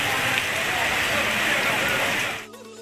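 Rain pours down over villages as a dense, steady hiss of drops. It falls loud and close for over two seconds, then cuts off abruptly into quiet background tones.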